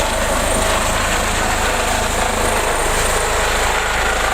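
A loud, steady helicopter drone over a college ground in Lohardaga, with a thick rotor rumble and broadband engine roar, continuous throughout without any talking.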